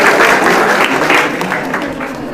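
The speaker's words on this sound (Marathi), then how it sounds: "जोरदार टाळ्या होत्या मॅमसाठी." A room of students at a competitive exam session applauds a woman who answered correctly, giving loud, dense clapping that holds steady throughout.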